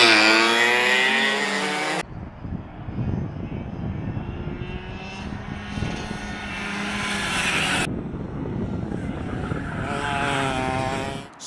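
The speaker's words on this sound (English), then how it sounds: "as their karts are going through the corners at speed" Go-karts racing at speed through the corners of a chicane on a racetrack, engines droning loud and close, with rising and falling pitch as karts pass and others follow behind.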